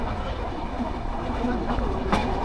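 The Dhumketu Express, running between Dhaka and Sirajganj and slowing past a work zone, gives a steady low rumble with soft rail clatter and a sharper knock near the end, with indistinct voices faintly underneath.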